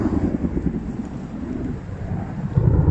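Outdoor thunderstorm at a survival shelter build site, with steady heavy rain and low rumbling thunder rolling throughout, swelling louder near the end; no voices.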